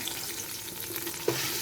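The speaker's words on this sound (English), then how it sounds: "I'm going to be stir frying." Garlic, ginger and onions sizzle and hiss steadily as they stir-fry in a hot pot, a brief clink sounding near the end.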